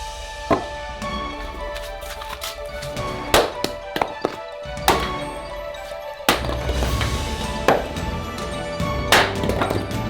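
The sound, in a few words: chopping firewood for a wood-fired pizza oven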